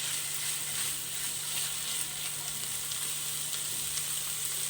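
Shredded chicken and chopped onion fry together in a pan with a steady, close sizzle that holds at an even level throughout, with no talking over it.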